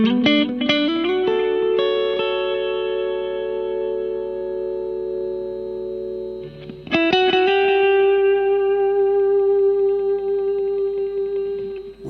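Guitar played through a Crazy Tube Circuits PHI Golden Ratio compressor pedal with the threshold cranked, giving clean, long-sustaining chords and notes with a slight gritty edge. Two strummed passages ring out loud and steady, with a short break between them.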